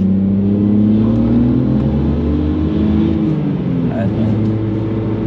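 A BMW Compact with over 300 horsepower and around 300,000 km runs with a steady, loud, smooth engine drone that swells slightly, heard from close by while people talk over it.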